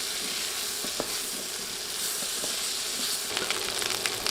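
Cut potato pieces fry in hot oil with a steady, close sizzle and crackle that holds throughout, with a few sharper pops and stirring clicks near the end.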